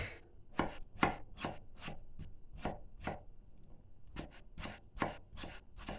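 Crisp knife chops of fresh green beans on a cutting board, a steady series of sharp crunchy strikes with a short pause partway through, close and clear with no talking.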